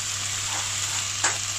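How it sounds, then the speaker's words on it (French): Marinated chicken skewers sizzle steadily in a hot pan, a continuous close frying hiss with one brief louder crackle burst near the end, no voices. "on n'a plus qu'à faire cuire sur une face et les retourner pour faire la cuisson sur l'autre face"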